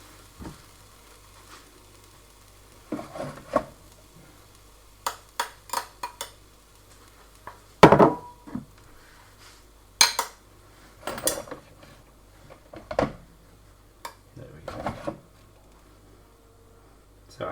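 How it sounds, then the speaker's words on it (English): A serving spoon scoops cooked rice into bowls for a Thai pork stir fry, giving scattered metallic clinks and scraping knocks against the dishes at close range, irregular and spaced out over a quiet background. "grab another serving spoon. Fill my bowls up with rice."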